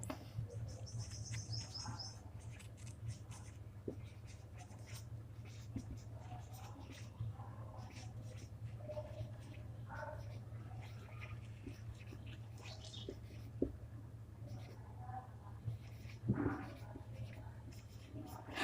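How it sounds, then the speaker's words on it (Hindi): Marker or chalk writing out the chemistry reactivity series on a board in a class 10 lesson, intermittent soft scratches and taps over a steady low hum, with birds chirping faintly in the background. "रिएक्टिविटी सीरीज लिख देते हैं।"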